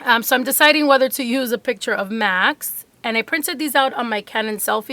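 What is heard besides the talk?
No everyday noise stands out behind the speech.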